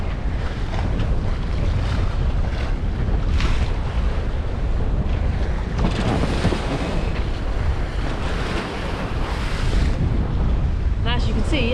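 A sailboat crossing the Atlantic Ocean toward the Azores crashes through two-metre swells under a cloudy grey sky, with loud continuous wind buffeting, rushing water and surging waves, and a voice talking over the roar.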